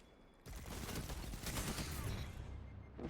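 An SMG in Destiny 2 PvP fires a rapid burst of gunshots that starts abruptly and continues for about two and a half seconds, dense and close, with no talking.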